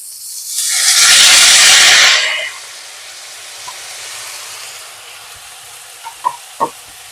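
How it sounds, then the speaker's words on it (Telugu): Cabbage sizzles loudly as it drops into hot oil with onions and green chillies, a broad hiss swelling for about two seconds before settling to a quieter steady fry on medium flame, with a few sharp clinks of a utensil near the end. "ఇలా కొంచెం మీడియం ఫ్లేమ్లో పెట్టి ఫ్రై చేసుకోవాలండి క్యాబేజీని కొంచెం నీరు తగ్గే వరకు ఫ్రై చేయాలి"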